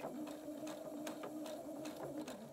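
A sewing machine runs steadily while stitching a seam around a cloth cap, guided along the presser foot edge; a continuous, quiet, even whir with no voices.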